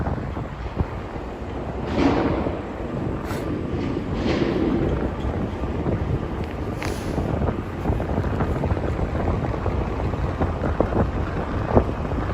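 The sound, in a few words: wind blowing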